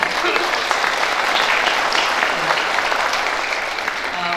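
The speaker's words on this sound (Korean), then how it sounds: "박원순 서울시장님께 박수 한번" Audience applause for the Seoul mayor at a joint WT-ITF taekwondo demonstration at Seoul City Hall, full and continuous, with a few faint voices mixed in.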